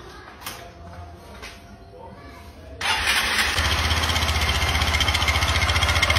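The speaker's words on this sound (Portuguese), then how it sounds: "Agora eu vou ligar a moto" A motorcycle with a modified exhaust starts up after some quiet handling noise, then settles into a loud, steady idle with a rough, pulsing throb that continues to the end.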